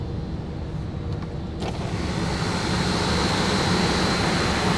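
A Land Rover Defender 2.2 TD4 Puma diesel runs on a dyno, a loud, steady engine roar that builds slightly toward the end, with a few clicks near the start.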